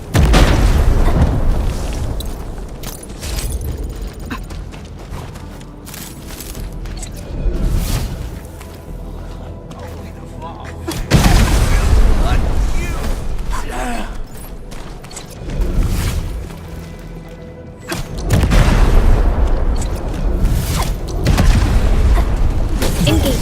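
Loud, heavy booms of bomb explosions in the video game Arknights: Endfield, coming in repeated bursts with rumbling tails and whooshing effects, strongest near the start, around eleven seconds and again from eighteen seconds.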